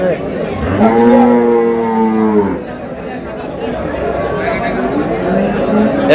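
Cows and calves at a busy village cattle market, with one loud drawn-out moo close by followed by crowd chatter and talking.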